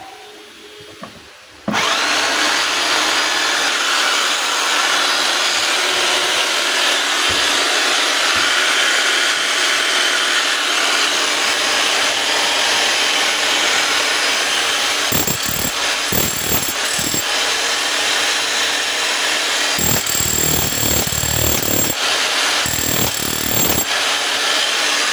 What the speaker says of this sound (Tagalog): So ito po yung 10 kilos ng DeWalt mga kabay na jackhammer